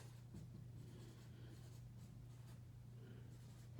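Pen or pencil scratching out words by hand on paper, a faint continuous scritching with soft strokes over a low steady hum.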